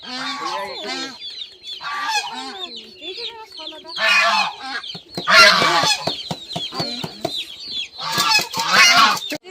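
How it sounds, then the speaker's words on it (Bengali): Two domestic geese at a village home in the Sundarbans honk loudly and close by. Their harsh, repeated calls come in uneven bursts, growing busier and noisier toward the end. "বাড়ির এই 2টো রাজহাঁস এখনো আছে"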